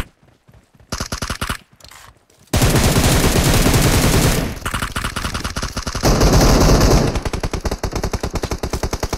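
Rapid bursts of automatic gunfire from the mobile battle royale game PUBG Mobile, near and loud, with short and sustained volleys that overlap almost without pause.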